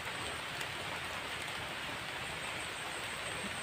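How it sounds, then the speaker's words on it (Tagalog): Dense, steady hiss of heavy rainfall, constant and enveloping, with no speech. "Lakas pa ng ulan guys no."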